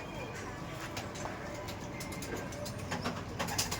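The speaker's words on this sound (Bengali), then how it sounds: "খুব একটা লম্বা না কিন্তু শর্ট সাইজের পায়রা" A short-sized crossbred teddy pigeon coos low and soft against a constant background hiss, with faint voices nearby.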